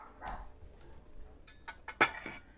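A small dog barks from another room in a home kitchen setting, a few muffled, distant yaps scattered over quiet room noise.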